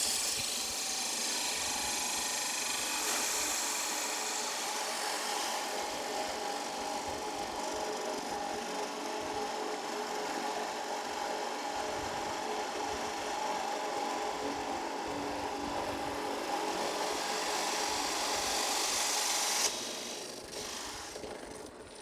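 A GAMMA G2320 350 W bench drill press bores with a 35 mm Metalli bit, giving a steady grinding, rasping whir that holds level for a long stretch before easing off near the end.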